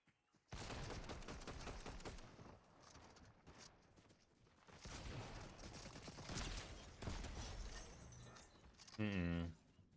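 Rapid bursts of Fortnite gunfire crackle in dense volleys, with gaps between bursts, a voice speaks during the firing, and a short tonal game sound closes the clip.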